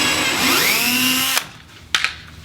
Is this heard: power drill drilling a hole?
yes